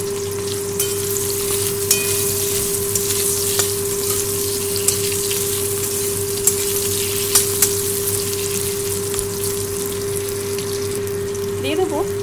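Oil sizzles and spits steadily in a pan as salt and turmeric go in, a dense, even crackle throughout with a few louder pops, a steady hum under it and faint movement near the end.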